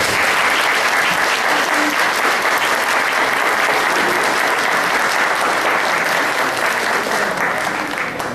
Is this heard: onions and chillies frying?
no